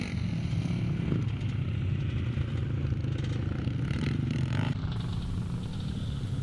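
Vintage motocross bikes, including a Faber BSA 440, race in an over-60s class at the Scottish Classic at Kirkness, a continuous rough engine drone with clattering and a brief louder pass, steady and moderately close.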